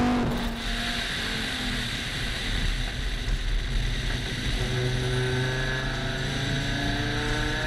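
A loud, deafening race car engine heard from inside the cockpit on a track in Scotland, a continuous dense roar with rising and falling harmonic tones as the revs change, no talk over it.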